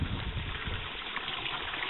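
Water flowing steadily at an outdoor water source, a continuous soft gushing rush at low volume with no voices.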